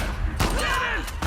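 Gunfire in the video game The Last of Us Part 2, a rapid burst of shots with a booming, reverberant tail, loud and close for just over a second.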